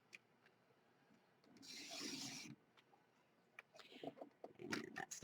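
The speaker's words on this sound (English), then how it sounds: "I have my little cutter here, my trimmer, and I'm just going to be cutting some 1-inch wide strips" A paper trimmer slices 1-inch cardstock strips, giving a short rasping cut of about a second, followed by quieter scraping and shuffling of the paper, with a few light taps and clicks.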